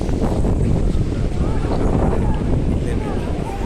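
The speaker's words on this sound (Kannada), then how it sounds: "ದೇವಸ್ಥಾನದಲ್ಲಿ ನಿಲ್ತಿದ್ದಂಗೆ ಸಿಕ್ಕಾಪಟ್ಟೆ ಗಾಳಿ ಸಿಕ್ಕಾಪಟ್ಟೆ ಗಾಳಿ" Strong wind buffets the microphone at a crowded hilltop temple, a steady, loud roar that runs the whole time with no clear break.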